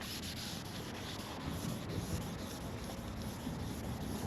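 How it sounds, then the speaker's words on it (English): Steady, close scrubbing on the glass of a 2022 Tesla Model Y, clearing tape glue residue with a continuous rough rubbing that carries on without pause. "we're just going to give it a good high scrub all the way across"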